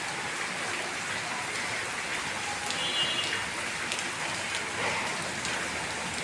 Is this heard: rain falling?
yes